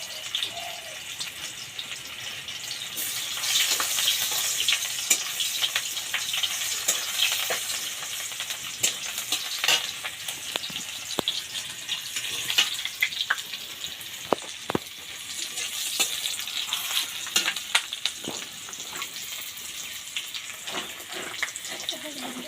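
Onion and cumin fry in oil for a greens-stem curry, a continuous bright sizzle with scattered clicks and stirring strokes running throughout, fairly close and without talk.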